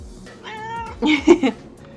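A pet cat meows up close, one drawn-out cry followed by a louder, broken burst of short yowls, fairly loud in a quiet room.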